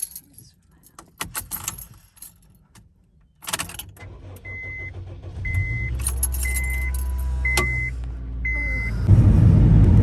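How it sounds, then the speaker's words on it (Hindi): A car is started in freezing conditions after its ice melted: keys jangle and the door clunks, then the starter cranks and the engine catches into a steady idle, with a repeating chime and a rising revving rumble near the end. "चले गाड़ी स्टार्ट करते हैं फिर देखते हैं।"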